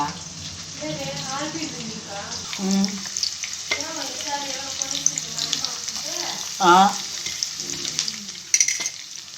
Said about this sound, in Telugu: ఎర్రగడ్డలు వేగినాయండి